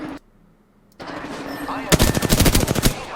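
Rapid automatic gunfire in the video game Apex Legends, a dense burst of sharp shots kicking in after a quiet stretch and muffled background sound, close and loud.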